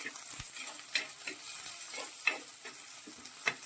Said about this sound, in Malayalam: അതോടൊപ്പം തന്നെ നമ്മൾ പുളി ഒന്ന് പിടിക്കാൻ വേണ്ടി പുളിയും കൂടി ഇട്ടാണ് ഒന്ന് വഴറ്റുന്നത്